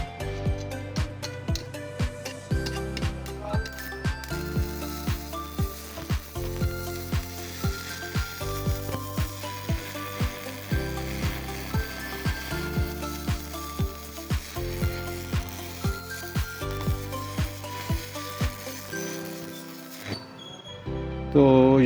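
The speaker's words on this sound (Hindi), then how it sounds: "थोड़ा सा ग्रेजुअली इसको हम जो है ना वो ज़्यादा करेंगे और अभी इसकी वेल्डिंग आप देख लें" A ZX7 280 single-card arc welder, repaired after an IGBT module failure and set at medium current, welds with a continuous crackling sizzle and rhythmic sputtering pulses. It stays close and loud for about twenty seconds before cutting off.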